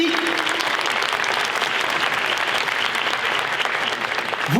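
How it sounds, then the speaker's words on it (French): Audience at a mentalism show in the Zénith arena in Strasbourg breaks into loud, dense applause that holds steady for several seconds, with a brief voice audible at the start and end over the clapping. "Un tonnerre d'applaudissements pour Lucie, s'il vous plaît."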